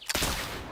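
A burst of gunfire from hunting in the Oregon Trail video game, starting as one sharp crack and swelling into a dense, rattling volley that stays loud for under a second.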